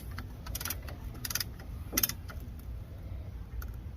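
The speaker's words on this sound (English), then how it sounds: "Compressing the caliper back to original." A brake caliper piston on a 2009–2014 Ford F150 being slowly pressed back with a tool, giving close, irregular mechanical clicks and ratcheting ticks in short bursts over a low hum.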